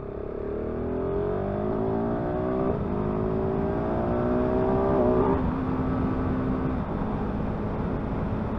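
A 2022 KTM 690 SMC R single-cylinder motorcycle accelerating hard to overtake, engine pitch climbing through several gear changes with brief dips between, heard from the rider's position over wind noise.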